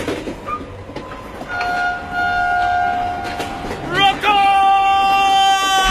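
Train in a Pakistani film scene bound for Karachi, its horn sounding in long sustained tones over steady rolling rumble, a sharp burst of whistle near the end, with faint voices underneath.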